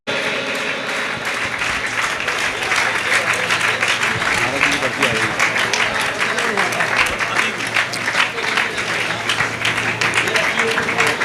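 A seated audience at an honoring ceremony of a Jain shravak sanskar camp in Itarsi applauds loudly, sustaining a dense, continuous wash of clapping for several seconds, with voices mixed in.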